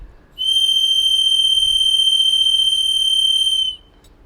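Compressed air shrieks out of an unconnected Wavin Tigris M5 pipe fitting during a pressure leak test, a loud steady high whistle starting abruptly, holding for about three seconds, then cutting off.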